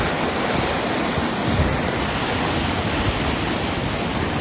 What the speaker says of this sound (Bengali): এভাবে যাচ্ছে পানি